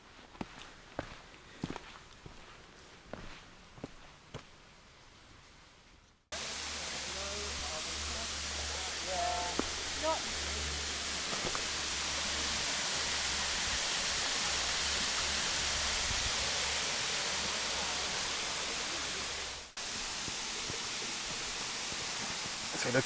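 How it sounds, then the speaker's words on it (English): Waterfall in Royal National Park on a bushwalk, a steady broadband rush of falling water close by that swells in after footsteps on the trail and holds loud and continuous for about thirteen seconds, with a few faint voice fragments. "So that's the waterfall now."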